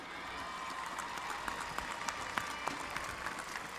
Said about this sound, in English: let's give our counselors a well-deserved round of applause